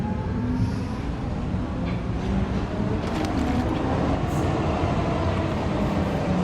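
A train rolls along in the Call of Duty Warzone battle royale game, giving a continuous low rumbling roar with clattering wheel noise, close and steady throughout, with no voices over it.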